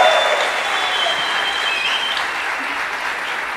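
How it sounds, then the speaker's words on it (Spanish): Live audience at a comedy podcast show in a sold-out venue breaking into strong applause, a loud continuous roar of clapping with some crowd noise and faint cheering mixed in, holding steady throughout. "Un fuerte aplauso para ellos."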